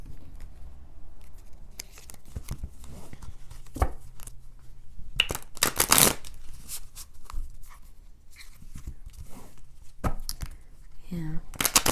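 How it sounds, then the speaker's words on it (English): Tarot cards riffle and snap in quick bursts of papery flutter, close by, with brief pauses between shuffles and a voice speaking now and then. "And I like to do an extra shuffle on camera."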